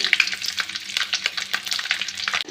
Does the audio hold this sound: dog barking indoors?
no